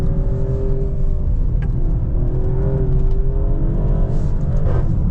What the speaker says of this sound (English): Just then we hit the red line, so it doesn't upshift automatically